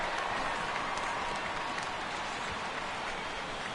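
A stadium crowd in the MLB The Show 16 baseball game, Cardinals at Giants, rises for a 3-2 count with a steady wash of applause and cheering, broad and sustained throughout.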